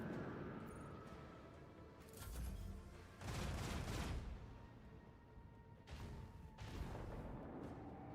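Torpedo launch in Warhammer 40k Rogue Trader, a series of deep booming whooshes and rumbling blasts in several waves, moderately loud over a steady space-battle background.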